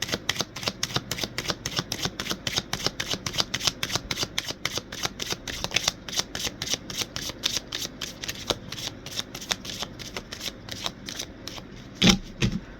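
Tarot cards shuffled by hand in a steady rapid riffle, dense repeated flutters of card edges close up, ending with a sharper tap as the deck is squared.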